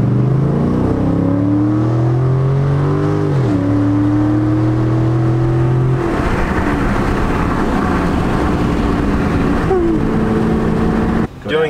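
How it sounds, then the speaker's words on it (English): A Dodge Hellcat accelerates hard uphill from a standstill to 60 mph, heard from inside the car: a loud engine roar climbs through the gears with clear shift breaks, then settles into a steady high-speed drone. "Doing a 0 to 60 uphill."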